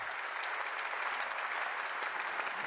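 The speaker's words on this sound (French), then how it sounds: "S'il vous plaît, sous vos applaudissements." A ceremony audience at an apprenticeship celebration gives steady, even applause to welcome the next speaker, heard from a moderate distance with no talk.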